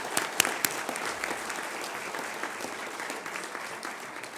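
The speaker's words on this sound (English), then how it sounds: "how about a round of applause for our speaker" An audience at the National Press Club applauds a guest speaker at the close of a talk, a sustained wash of many hands clapping with a few sharper claps standing out near the start.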